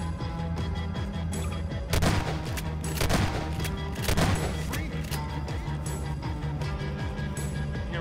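Several heavy gunshots fired at a monster in a video game, three or four loud blasts spaced about a second apart over a dense, rumbling game soundtrack.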